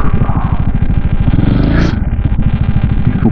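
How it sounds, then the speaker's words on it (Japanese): Loud motorcycle engines, including a Harley, rumble and throb close by, with a rising rev as bikes roll past in heavy traffic. "多いですね、バイクが。"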